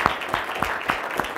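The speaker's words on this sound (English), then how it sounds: "So if we could just applaud the speakers who spoke before me." An audience at a functional medicine summit claps for the speakers, a thin, sparse patter with a few distinct claps standing out at roughly regular intervals, fairly faint and short-lived.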